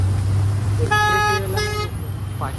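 A vehicle horn toots twice on a steep mountain ghat road as a car approaches from behind, the honks loud and close over a steady engine rumble.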